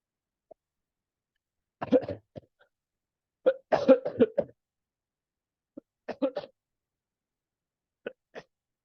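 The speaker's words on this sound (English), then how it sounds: "Please bear with my cough" A series of short, harsh coughs in separate bursts, some single and some in quick clusters, with quiet pauses between them, close and fairly loud.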